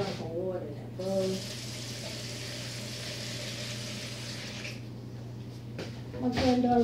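Tap water runs steadily into a mixing bowl in a home kitchen after biscuit making, a continuous hiss of flow with brief speech at the start and end.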